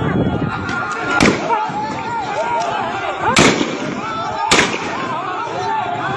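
Police gunfire during crowd unrest, three loud sharp cracks echoing over a noisy, shouting crowd with voices throughout.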